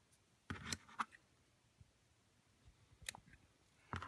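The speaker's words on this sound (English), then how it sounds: "I'm going to take my scissors" Scissors trim applique fabric in a few quiet, sparse snips and clicks, separated by pauses, with soft handling sounds between them.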